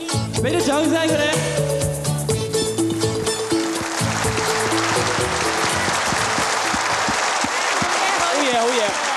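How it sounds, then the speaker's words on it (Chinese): Audience applause for performers on a 1988 Hong Kong television variety show breaks out as a song's music fades, then swells into dense, continuous clapping that fills the remainder. "俾啲掌声佢哋。"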